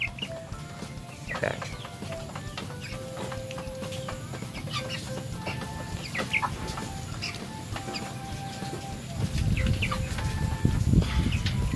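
Chickens cluck and chirp around a small backyard poultry coop, scattered soft calls over a busy rustling background that grows louder near the end.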